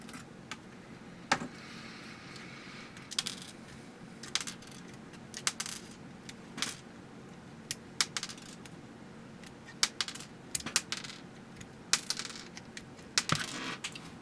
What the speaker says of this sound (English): What you are currently hearing is just the spring releasing my little nippers right here.